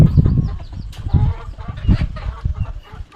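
A flock of chickens in a home coop with a run and roosting area clucks and calls continuously at close range, a busy overlapping chorus with louder squawks near the middle, no voices.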